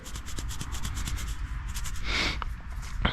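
Small beads inside a Ford rear view mirror rattle and shake in quick bursts, a dry, rustling clatter that continues steadily for a few seconds without any voices.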